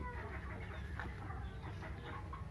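Chickens cluck in a coop at an eco chicken farm, a faint, continuous chorus of soft overlapping clucks and calls over low ambient hum.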